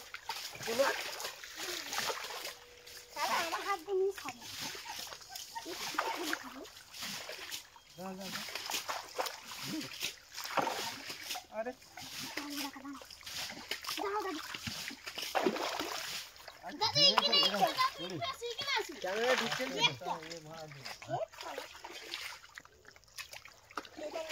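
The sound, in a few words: bailing water out of a shallow pond while fishing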